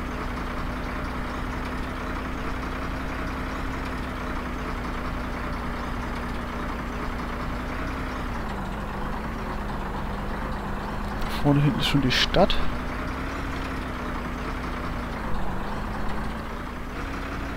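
A truck engine idles steadily in the video game Operation Flashpoint, a low continuous drone with slight pitch drift and a brief burst of higher noise midway, while someone speaks German over it.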